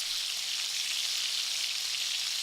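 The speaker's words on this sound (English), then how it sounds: "set the machine where it sounds like bacon frying" Steady crackling sizzle of a MIG welding arc, like bacon frying, continuous and even with dense hiss and no breaks, fairly close.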